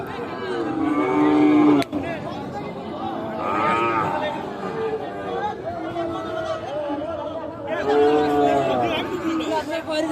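Sahiwal bull calves and other cattle moo repeatedly at a busy Tangail cattle market, several calls rising over constant crowd chatter and bargaining voices.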